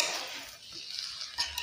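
A spoon stirs mutanjan sweet rice in a pot on a switched-off stove, giving soft scraping and a few light metallic clinks, faint and close, with no talk.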